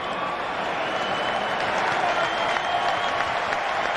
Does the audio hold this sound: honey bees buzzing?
no